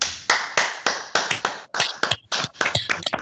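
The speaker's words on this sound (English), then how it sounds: "Just have a clap." A lecture audience on an online call claps with unmuted microphones, giving a short, uneven patter of separate hand claps for about three seconds with no talking.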